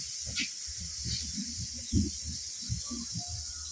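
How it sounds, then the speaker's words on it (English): Onions and a little oil hit a hot pan while minced meat and vegetables are cooked, and a steady bright sizzle hisses throughout with soft clicks and bumps underneath, fairly quiet and close. "So now we can add our onions here and our oil."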